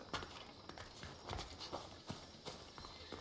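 Rapid hoofbeats of a horse galloping in the video game Assassin's Creed Odyssey, a quick irregular run of close clip-clop strikes over a faint game background, with no talk.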